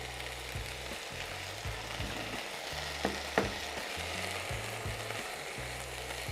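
Fresh diced pineapple sizzling in a hot pan, a loud steady frying hiss with scraping stirs and a couple of sharp clinks, no voices.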